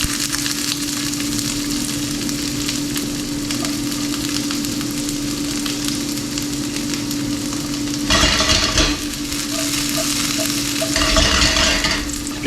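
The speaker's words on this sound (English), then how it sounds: "let's get some avocado oil in it. Now, first thing we're going to do, we're going to get some onions going in there." Onions fry in avocado oil in a pan with a constant close sizzle, a steady hum underneath, and louder bursts of crackling as the food is stirred and shifted near the end, with no talking.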